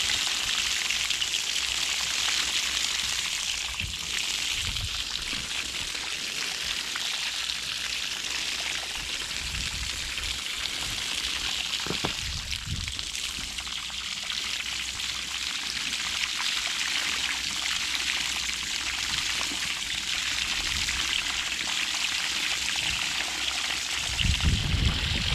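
Pressurized water from a hose sprays dirt off a filter from a Duramax truck outdoors in snow, a continuous hissing spray with splashing and dripping that shifts slightly as the stream moves, close and steady.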